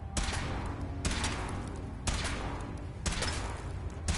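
A weapon test in the Fallout 4 video game: four evenly spaced, booming shots about a second apart, each followed by a rolling echo over a steady background roar, with no talk.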